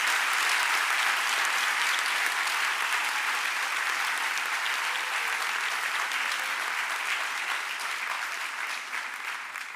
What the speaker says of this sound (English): I think we should give a collective round of applause to all our prize winners and graduates.